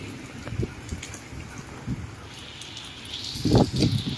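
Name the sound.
rain falling in the Reasi mountains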